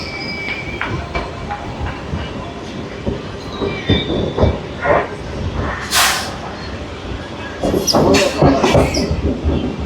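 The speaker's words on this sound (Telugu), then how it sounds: "మన ట్రైన్ వచ్చింది, స్టేషన్ మొత్తం ఖాళీ అయిపోయింది." A Guntur-Repalle MEMU passenger train at a station rumbles and clatters close by, with sharp wheel squeals rising near the end over a steady rolling drone.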